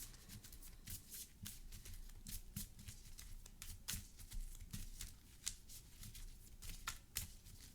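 A deck of playing cards shuffled during a Marvel Champions card game, quick crisp riffles and snaps repeating in short bursts close to the table, quiet overall.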